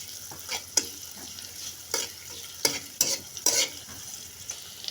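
Chopped onion fries in oil in a wok while being stirred, with bursts of scraping and clinking from the utensil at irregular intervals over a soft continuous sizzle, close and fairly loud.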